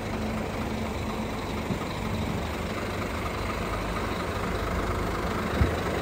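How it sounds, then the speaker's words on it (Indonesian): A Scania double-decker bus engine idles steadily with a low, continuous rumble and no talking. "Enak ya suara mesin Scania tuh, bikin nagih dengernya."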